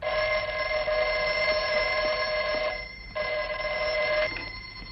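An old-style telephone bell rings steadily and loudly in a quiet room, a long continuous ring with a brief gap partway through, no voices.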